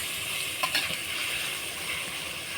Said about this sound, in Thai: เราก็จะผัดไปเรื่อยๆ ให้กลิ่นหอมๆชวนเตะจมูกคนด้านข้างครับ